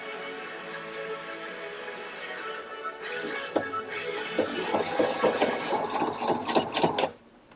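A sewing machine stitching a Victorian dress seam: quiet at first, then a fast, even mechanical whir with rhythmic clicking that builds and stops abruptly near the end, heard up close.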